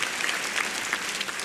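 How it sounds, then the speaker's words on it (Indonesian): Short burst of dense crowd applause at a stand-up comedy grand final, steady and fairly loud throughout its brief span. "Tepuk tangan dulu dong."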